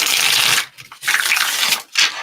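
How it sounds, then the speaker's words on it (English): A tarot card deck is shuffled in several quick bursts of riffling and crisp papery flutter, close up, separated by brief pauses, with no talking. "Let's give this a quick shuffle."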